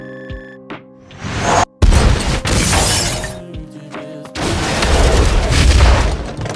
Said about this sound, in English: The missile precisely leveled the terrorists' hideout.